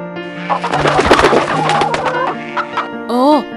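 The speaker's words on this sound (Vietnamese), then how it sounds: "Ồ, một đàn gà rừng béo mập." Cartoon flock of plump jungle fowl clucking and cooing in a short busy burst, with animated chatter and a rising squawk near the end, set against a background music score.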